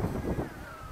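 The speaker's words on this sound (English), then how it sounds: "And again, it is windy" Wind buffets the microphone outdoors while an Eachine Aurora 100 brushless micro FPV quadcopter flies, giving a short burst of low rumbling gusts with a thin motor whine drifting underneath, and no talking.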